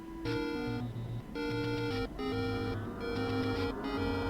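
A bright, chiptune-style melody plays with a bouncy bass line, distorted and somewhat garbled, with no voices.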